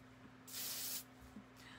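Hairspray from an aerosol can hisses in one steady burst of about half a second, close and clear, followed by a fainter second spritz.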